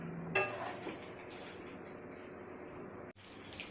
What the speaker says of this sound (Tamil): சிக்கனை எடுத்து வேறு பாத்திரத்தில் மாற்றிக்கலாம்.